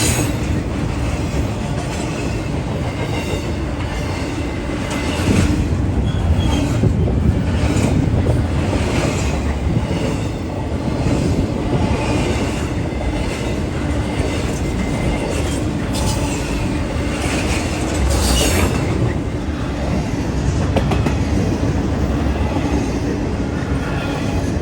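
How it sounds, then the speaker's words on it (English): A northbound intermodal freight train rolling past in Greenville, South Carolina, loud continuous rumble of railcars with clickety-clack of wheels and occasional squeals, close by, no talk. "Northbound intermodal traffic, most likely bound for New Jersey or Rutherford, Pennsylvania's bustling intermodal terminal."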